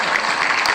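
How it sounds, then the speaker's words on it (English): A brief burst of steady clapping from a group, a short round of applause lasting under a second with no talk over it. "Let me get a round of applause on that one."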